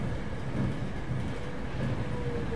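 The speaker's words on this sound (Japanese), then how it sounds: "電車がトンネルに入った時のことだ。" Steady low rumble of a train interior in a PSP horror game, a continuous rolling drone with faint rhythmic clatter, moderately loud and without any voices.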